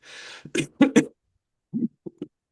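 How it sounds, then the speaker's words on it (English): A person coughs a few times near the microphone after a breathy exhale, with short harsh bursts followed later by smaller throat-clearing coughs. "Me cough"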